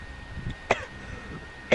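A man sick with a cold coughs two sharp, abrupt times about a second apart, close to the microphone, with low muffled background noise between the bursts.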